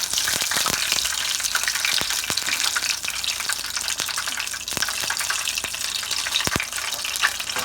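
Food fries in a pan with a steady, close sizzle, dotted with sharp crackles and pops throughout, and no voices.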